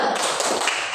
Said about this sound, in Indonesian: Nah, kita coba dengan tepuk semangat ya.